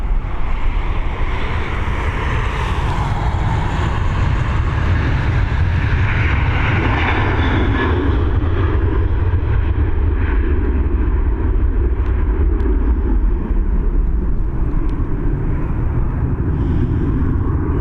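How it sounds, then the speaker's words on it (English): A Ryanair Boeing 737 takes off at Dublin Airport, its jet engines giving a loud, sustained roar with deep rumble that slowly fades as the aircraft climbs away, with wind buffeting the microphone. "we're heading to Porto on this 737, operated by Ryanair"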